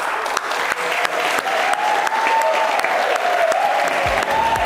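A studio audience at a televised quiz competition applauds and cheers loudly and continuously, dense clapping with a sustained whistle-like tone running over it.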